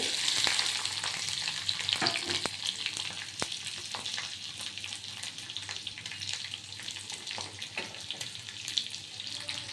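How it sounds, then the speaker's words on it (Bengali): Fenugreek seeds and green chillies fry in hot oil in a home kitchen, a continuous loud sizzle with crackling pops and occasional stirring scrapes, no speech. "দেখুন মেথি ভাজার গন্ধ বেরিয়ে গেছে এবার কাঁচা লঙ্কা দিয়ে দিলাম"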